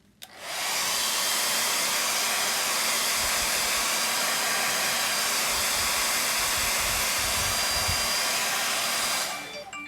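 A heat tool blows cool air over drying ink on a metal Valentine gift set, a steady loud whoosh lasting almost the whole stretch before cutting off near the end.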